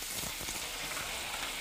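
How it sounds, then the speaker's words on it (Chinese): Fish bones fry in melted lard in a pan, a soft, steady hiss at low volume with no voices. "对，把猪油化开之后下鱼骨。"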